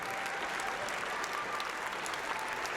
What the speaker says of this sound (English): The audience bursts into applause.